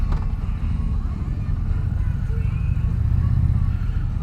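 An Indian Challenger motorcycle with aftermarket pipes idles smoothly in neutral, a steady low rumble throbbing close and loud without pause.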